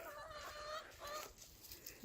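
Farm chickens in spring cluck and call faintly in a short, broken series of soft notes over a quiet outdoor background.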